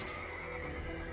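A horse whinnies in the video game Kingdom Under Fire 2, a steady neighing call over soft background hoof clatter, heard alone without talk.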